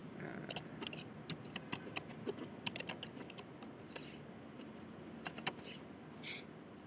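Quick, irregular keystrokes on a computer keyboard while working in PowerPoint, a close and fairly quiet run of taps and clacks with short pauses and no talking.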